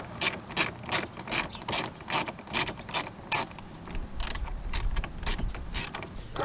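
A ratchet backs out 7mm dash screws in a Jeep Wrangler, giving rapid clicking bursts in quick repeated strokes, close up, with a short pause partway before the clicking resumes.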